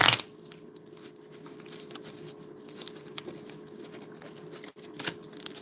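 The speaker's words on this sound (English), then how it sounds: "we get to take a little announcer break to shuffle these split decks" Split decks of Strat-O-Matic baseball cards are shuffled by hand during a tabletop 1986 baseball replay, making a faint, continuous papery patter with a few sharper flicks and no talking.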